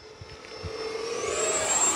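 An FMS BAE Hawk 80mm electric ducted-fan RC jet passes close with a loud, steady screaming whine that rises in pitch and swells in volume over a few seconds.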